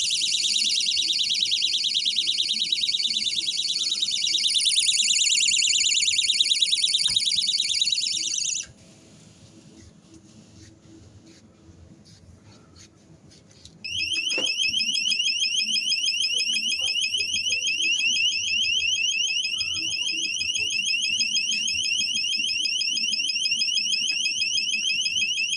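A loud electronic door alarm on a supermarket refrigerator beeps in rapid pulses, stops for several seconds, then resumes in a different repeating tone, with faint background noise beneath.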